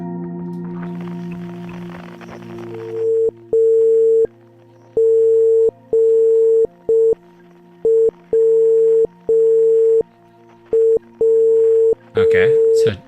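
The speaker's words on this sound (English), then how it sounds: "Morse code frequency" Morse code signal beeps in the video game Outer Wilds, a loud steady tone keyed on and off in short and long beeps after a brief stretch of noisy ambience at the start.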